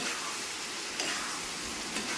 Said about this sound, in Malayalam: പാവയ്ക്കായിട്ട് കൂട്ടി ഇളക്കി. അപ്പോൾ ഇനി വേവാൻ പാടില്ല കേട്ടോ.